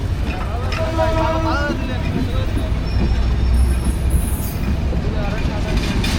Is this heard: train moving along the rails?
yes